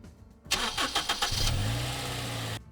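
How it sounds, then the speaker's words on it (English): A sped-up car engine sound effect: a few sharp revving bursts followed by a steadier mid-pitched engine drone, fairly quiet overall, ending abruptly, with no voices. "No, that just sounds like a normal car now."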